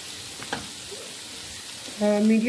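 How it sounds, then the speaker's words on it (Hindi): Okra (bhindi) frying in a pan makes a low, steady sizzle with a couple of soft stirring knocks, quiet and close, before a louder tonal sound cuts in during the final half-second. "इसको भी मैं अच्छे से भूनना शुरू कर लूँगी।"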